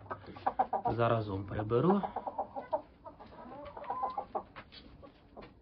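Roosters cluck and call from close by in a farm poultry yard. Someone speaks Ukrainian over the birds, and their throaty calls rise and fall under his voice.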